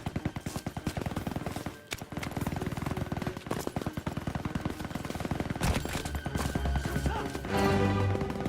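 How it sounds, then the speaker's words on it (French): Dense gunfire from Call of Duty WWII rattles continuously for about eight seconds, rapid machine-gun bursts and single shots layered over battlefield noise, with a brief gap near the two-second mark. "On te fait tirer dessus."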